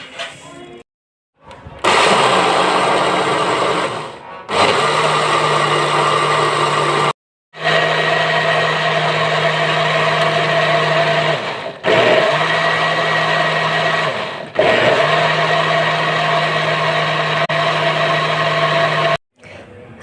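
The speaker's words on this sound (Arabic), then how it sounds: "وهنزل بقى بيهم في الخلاط" A blender whirs loudly, mixing oil, butter and sugar for a vanilla cake batter, running in several long bursts of steady motor drone separated by short pauses where it stops and restarts.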